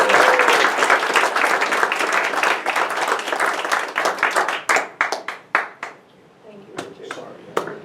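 Applause at a Rotary club changing-of-the-guard event, a crowd clapping steadily at first and then thinning into scattered individual claps that fade out, with no talk over it.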